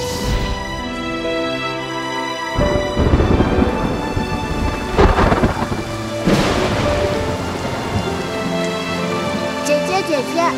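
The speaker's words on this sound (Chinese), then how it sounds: "下这么大的雨" A thunderstorm with heavy rain, loud thunder rolling in and swelling in bursts over steady rain, set under a layer of music.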